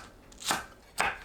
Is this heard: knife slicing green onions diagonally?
yes